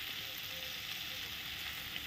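Papaya curry sautéing in a pan gives a steady, soft sizzle and hiss that continues evenly throughout, with no voices.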